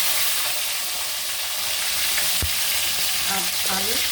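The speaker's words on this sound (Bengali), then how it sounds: "দেখুন মাছ ভাজা তেলে আমি ফুলকপি" Cauliflower and potatoes fry in hot oil left over from frying fish, a steady close sizzle running throughout with a brief stir or clatter midway.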